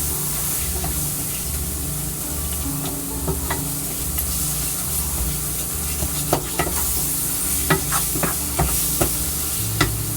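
Garlic and hamburger noodles stirred in a hot pan, a loud continuous sizzle and hiss heard close, with scattered scraping clinks of the utensil growing more frequent toward the end.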